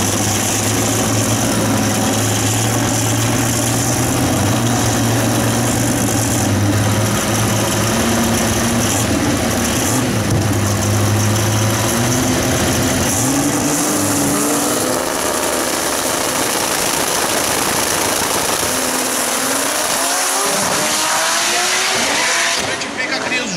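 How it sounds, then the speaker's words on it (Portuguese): Turbocharged rear-wheel-drive drag race cars running on radial tires at a drag strip, a loud continuous engine roar with rising and shifting tones, fading toward the end, with an announcer talking over it. "Você abre o microfone lá na pista para curtir o som e a fúria da turbo traseira."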